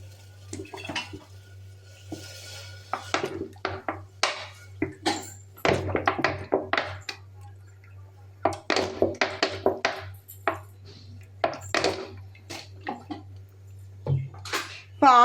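A metal cooking pot is set on a stove while making sambar, with scattered clanks, taps and light scraping of cookware. The sounds are close but fairly quiet, over a low steady hum.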